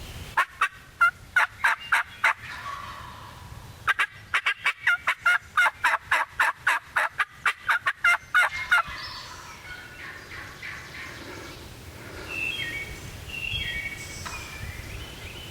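A wild turkey gobbler in Ohio lets out a long run of rapid, loud gobbles, twice, then the woods go quieter with faint rustling and distant bird calls.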